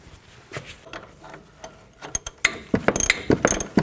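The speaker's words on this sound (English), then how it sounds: "Put the wrench on there." Ratchet wrench tightening a front upper control arm bolt on a 1999-07 Chevy Silverado 2500, giving quick repeated clicking bursts that grow louder and denser toward the end, close up with no talk.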